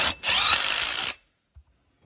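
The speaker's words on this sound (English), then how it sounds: "you're now going to use a 10mm socket to put your nuts back on" A 10mm socket on a power driver tightens nuts onto a Clearview mirror base, one loud whirring burst of about a second after a brief start, then a soft knock in near silence.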